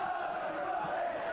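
Hull rugby league fans cheer in a late-1980s Hull v Widnes match, a steady, continuous crowd roar filling the stadium. The noise holds at a fairly even level throughout and has no clear separate voices.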